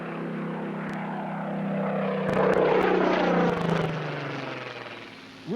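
Supermarine Spitfire propeller aircraft flying, escorting Concorde, a steady close engine drone with a low throbbing tone that swells in the middle and eases off toward the end, with no talking.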